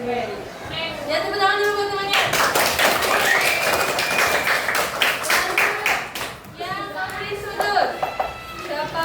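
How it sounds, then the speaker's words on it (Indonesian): Schoolchildren in a classroom clap for a classmate, a burst of quick, ragged applause lasting several seconds, with children's voices before and after. "tepuk tangan dulu buat temannya"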